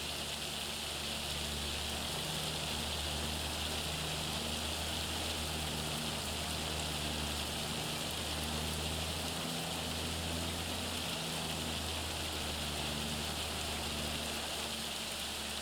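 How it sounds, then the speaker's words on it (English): Rain and hail in a farming video game make a dense, steady hiss of falling water that runs unbroken, with a low hum underneath and no voices. "very difficult for me to view in such a hailstorm"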